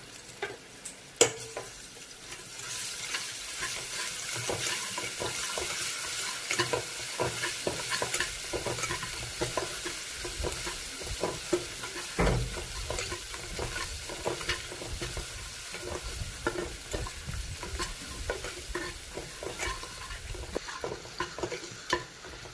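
Ginger garlic paste for chicken curry fries close by in hot oil, a dense crackling sizzle with frequent spoon scrapes and taps across the pan throughout.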